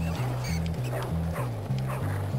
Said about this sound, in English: Is this dog really still chasing me?